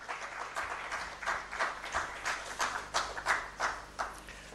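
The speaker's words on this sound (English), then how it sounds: "A hand clap for him." Audience at a World Investment Week conference claps for a closing speaker, a moderate scattered hand-clapping with a loose, uneven rhythm of individual claps throughout.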